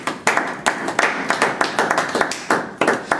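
A church congregation at a men's conference claps together in a quick, fairly even rhythm for about three seconds, sharp and close, acclaiming the King of Kings.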